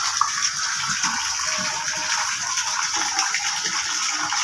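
A water pump pours a steady gushing stream into a concrete catfish pond, the continuous splashing rush loud and unbroken throughout.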